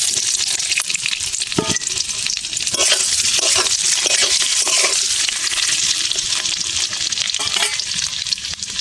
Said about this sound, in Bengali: বন্ধুরা, কড়ার তেল গরম হয়ে গেছে, আমি আলুর দমে আলুটা ভেজে নেব।